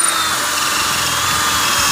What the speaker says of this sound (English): He's drilling a hole here to close the gate.